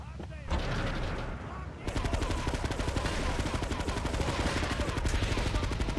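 Sustained automatic gunfire in Grand Theft Auto 3: Definitive Edition rattles in a fast, loud, steady stream of shots after a brief opening burst, with a voice briefly heard underneath.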